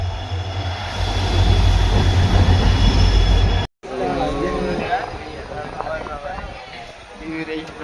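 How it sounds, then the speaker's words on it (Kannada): A train arriving at a station rumbles loud and close with a heavy low roar and faint squealing wheels, then after a sudden cut a quieter background hum continues under voices talking. "ಫೈನಲಿ ಅಂತೂ ನಮ್ಮ ಟ್ರೈನ್ ಬರ್ತಾ ಇದೆ"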